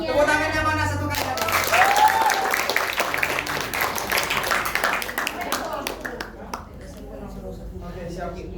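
An audience claps after a university drama performance, with scattered applause from a crowd mixed with voices and cheering that gradually thins out.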